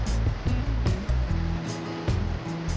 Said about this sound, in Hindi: इधर देखो नदी बह रही है मस्त एकदम